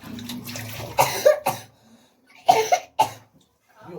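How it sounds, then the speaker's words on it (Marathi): Several sharp coughs come in two clusters, close by, from someone washing rice, with faint running water in the background between them. "मला खोकला झाला"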